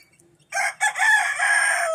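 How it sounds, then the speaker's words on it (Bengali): A rooster in a village yard crows close and loud, a sharp opening note followed by a long, drawn-out cock-a-doodle-doo call standing alone against near silence. "এই যে মোরগ শালা বুড়ো,"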